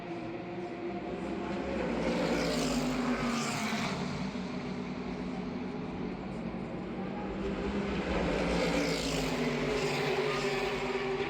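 Race cars at a 24-hour endurance race in Dubai, heard as a continuous roar of engines with cars swelling louder as they pass, rising and fading in waves at moderate distance.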